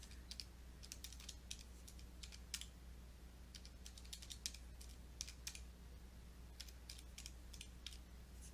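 Quick, light keypresses on a keyboard or calculator as numbers are entered for a Coulomb's law force calculation, irregular clicks in small clusters, faint against a low steady hum, no talk.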